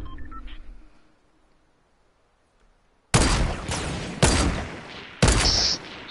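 Fortnite gunfire rips out in three loud, close bursts of rapid shots after a quiet stretch, each burst cutting off sharply.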